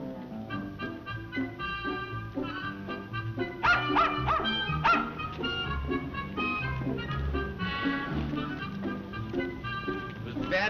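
A dog barks and yips in short bursts mixed with whimpering, fairly close over a steady background bed, repeated through the scene without clear talk.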